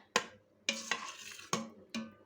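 Cooked dried beans stirred in an Instant Pot after pressure release, five separate scraping strokes of a utensil against the metal pot, close and clear with short quiet gaps between them.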